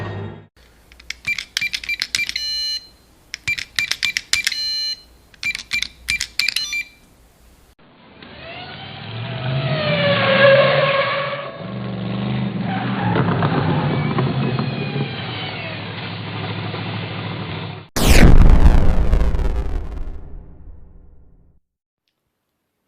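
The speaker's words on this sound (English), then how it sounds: "Engine running." A time-travel car's engine effect starts with a series of keypad-like electronic bursts, then hums, rises and revs for several seconds before a sharp loud burst and fading roar.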